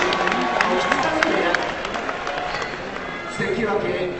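A sold-out sumo arena crowd in Osaka cheers loudly for local wrestlers as they are named, a dense roar of voices and clapping that swells and dips throughout.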